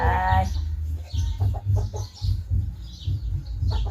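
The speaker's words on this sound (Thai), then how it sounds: "ไก่ไก่" Chickens cluck close by in a rapid series of short, choppy calls, one longer call opening the run, with rustling between the clucks.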